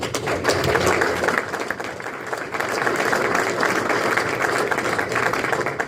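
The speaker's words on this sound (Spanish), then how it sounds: "¿por qué no damos un aplauso?" An audience applauds at a Shepherds Conference question-and-answer session in 2017, a dense, steady wash of many hands clapping that holds evenly for the whole stretch with no voice on top.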